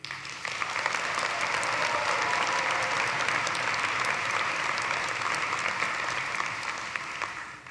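A large commencement crowd in a university arena applauds, a loud, sustained, dense roar of clapping that holds evenly for several seconds before tapering slightly at the end.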